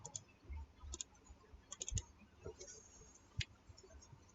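Rapid F-key presses on a computer keyboard driven by an auto-key program while playing Minecraft Skyblock, faint quick clicks in small irregular clusters over a quiet background.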